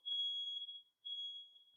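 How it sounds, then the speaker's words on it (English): A smoke alarm, set off by someone cooking downstairs, sounds two steady high-pitched electronic beeps, each lasting close to a second with a brief gap between, muffled and distant under an otherwise quiet room. "Do you guys hear that beeping in the background? That's somebody must be cooking downstairs."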